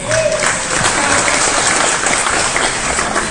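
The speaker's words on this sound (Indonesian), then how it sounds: "Tepuk tangan sekali lagi." A large crowd at an Indonesian political rally applauds loudly and steadily, a dense continuous clapping that fills the whole stretch.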